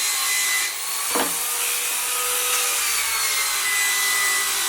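A power drill spins a wire brush against the steel of a trunk, giving a steady, close whirring scrub with a brief rise in pitch partway through.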